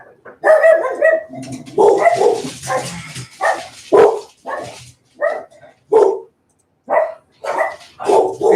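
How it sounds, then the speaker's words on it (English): Dogs barking loudly and close by indoors, a run of sharp barks and yips in irregular bursts with short gaps and a whimper or two between them. "Shut up, dogs."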